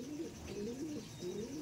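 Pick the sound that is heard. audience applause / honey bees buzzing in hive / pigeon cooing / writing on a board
pigeon cooing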